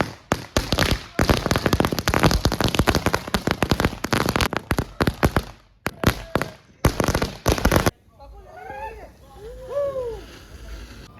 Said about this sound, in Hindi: बहुत सारे पटाखे, हम और पटाखे फोड़ेंगे।